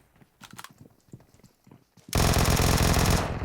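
Gunfire in the mobile battle royale game PUBG Mobile: scattered mechanical clicks and a few short shots, then a sudden loud sustained burst of automatic fire that fills the rest of the moment.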